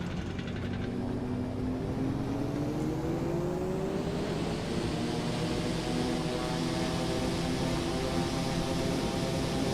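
A Eurofly Twinfox light aircraft takes off in Microsoft Flight Simulator, its engine droning steadily and rising in pitch as it gathers speed along the runway, loud and continuous with no talk over it.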